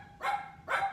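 A dog barks twice from nearby in a home, each bark a short, sharp burst with a clear gap between them and no talk over them.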